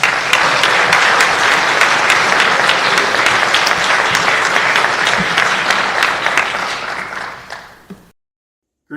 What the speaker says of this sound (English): Please give a round of applause to Hall of Fame inductee David Pavord.